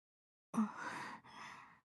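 A single heavy, strained breath from a wounded female character lying on a church floor in the Fate/Stay Night visual novel, a sharp gasping intake followed by a long ragged exhale, close and alone.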